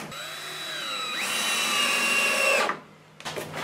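A power drill drives screws at an angle through wooden blocks into floor joists while building a temporary wall, the motor whining up and holding for a couple of seconds before stopping abruptly, close and loud.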